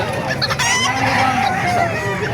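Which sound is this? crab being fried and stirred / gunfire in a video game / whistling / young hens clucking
young hens clucking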